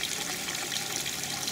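Water flushed through a car's heater core and hose, a steady faint rushing splash of flowing water with no talk.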